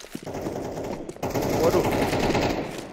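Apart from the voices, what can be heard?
gunfire in a video game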